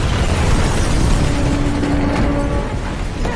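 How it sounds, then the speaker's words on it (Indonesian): An explosion in the Black Widow film: a dense, loud roaring boom with heavy low rumble and debris-like crackle, sustained for several seconds before easing slightly. "ledakan itu memisahkan mereka."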